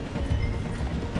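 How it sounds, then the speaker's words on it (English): Rumbling low train noise fills the scene as a video game train slows down through a station, a steady heavy roll with faint clattering and no clear voices. "The train is slowing down to go through the station."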